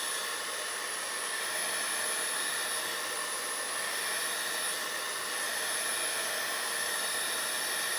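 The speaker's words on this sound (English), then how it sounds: "I could even hit it real quick with my heat gun." A heat gun drying a watercolor painting, giving a steady loud hiss and whine of blowing air that runs unbroken for the whole eight seconds, close and alone.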